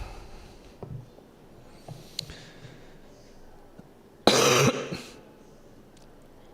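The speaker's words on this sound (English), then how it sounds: "Speaking of coughs." A single sharp, loud cough bursts out midway through a quiet indoor room, with only faint clicks and soft background noise before and after.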